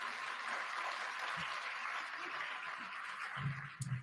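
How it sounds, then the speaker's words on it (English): An audience at the opening of Kenya Innovation Week in Nairobi gives a sustained, moderately distant round of applause, with a few louder thumps near the end. "Another warm applause for the CEO Kenya."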